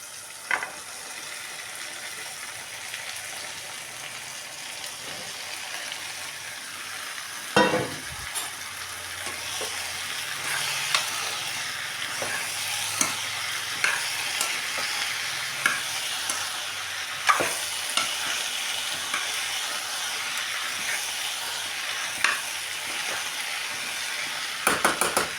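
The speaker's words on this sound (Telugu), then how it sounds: "ఇప్పుడైతే బెండకాయలు కూడా వేసుకుంటున్నాను." Okra fries and sizzles steadily in a pan, with occasional stirring clicks and scrapes over the constant crackle.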